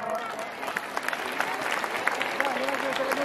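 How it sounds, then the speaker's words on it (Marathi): Audience applause at a Home Minister Paithani game show held for a village yatra festival: steady, dense clapping from a crowd, mixed with scattered voices throughout. "या सगळ्यांसाठी एकदा जोरदार टाळ्या वाजवा."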